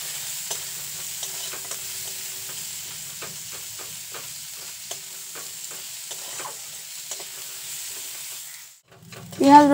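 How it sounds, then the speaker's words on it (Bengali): Chopped onion and garlic fry quietly in a pan with a soft, steady sizzle and repeated stirring taps, ending in a louder clatter. "পেঁয়াজটাকেও লালচে করে ভেজে নেব।"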